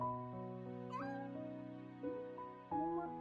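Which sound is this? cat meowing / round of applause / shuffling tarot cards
cat meowing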